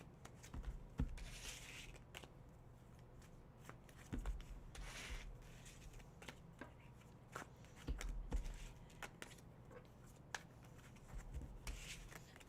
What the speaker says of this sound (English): Let me shuffle these back in, and I got you.